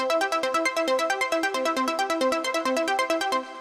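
An arpeggiated synthesizer preset recreating a pop-chart sound, with rapid evenly spaced bright plucked notes cycling through a chord pattern at steady volume, clean and alone before fading slightly at the end.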